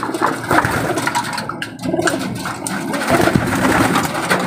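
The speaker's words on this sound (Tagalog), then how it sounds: "Ay mga ibon natin oh." Young homing pigeons coo in soft, repeated rolling calls close by, with fluttering and scuffling as the birds squabble over food, no talking heard.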